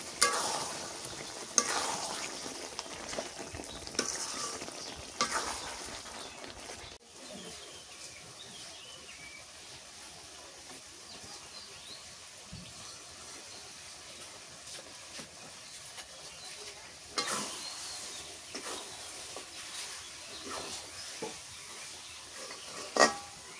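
Beef curry is stir-fried in a pot over a clay stove, a soft, steady sizzle overlaid with repeated scraping and stirring strokes, close by and without talk.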